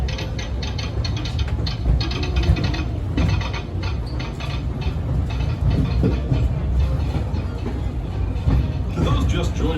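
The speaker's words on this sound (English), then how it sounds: "welcome aboard the Disneyland Railroad" The Disneyland Railroad train rolls along its track with a steady, dense rumble and rhythmic mechanical clatter of wheels and cars, continuous and close throughout, with faint voices mixed in.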